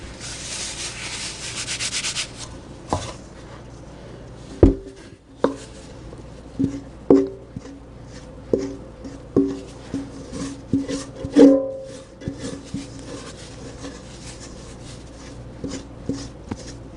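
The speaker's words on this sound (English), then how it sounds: "I am going to incorporate the rest of the flour into the dough and knead it for about 10 minutes." Challah dough being kneaded by hand on a floured work surface, with rhythmic rubbing and soft thumping pushes repeating irregularly and close up, without speech.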